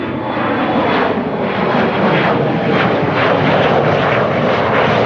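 A departing airliner at Amsterdam Schiphol Airport gives a loud, sustained engine roar that rumbles with a broad rushing texture throughout. Nobody talks over it.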